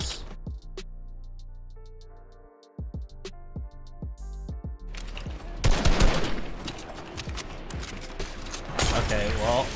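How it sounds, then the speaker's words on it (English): SMG gunfire in Fortnite, with sharp single shots and clicks followed by a rapid, loud burst of automatic fire amid game sounds. "did my SMG shoot sideways?"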